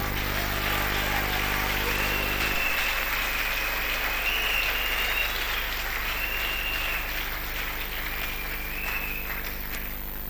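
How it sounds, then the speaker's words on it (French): A congregation at a church temple dedication applauds in a sustained, steady wash of clapping that carries on without a break, with a low hum beneath it in the opening seconds. "Est-ce que nous pouvons acclamer pour les rois des gloires?"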